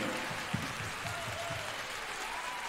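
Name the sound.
audience applause at concert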